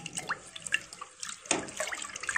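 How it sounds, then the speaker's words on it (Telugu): Water poured from a vessel into a pressure cooker holding rinsed moong dal and toor dal, splashing and trickling in short uneven bursts, fairly close and moderately loud, with no talking. "జస్ట్ ఇంత వాటర్ పోసుకోవాలి"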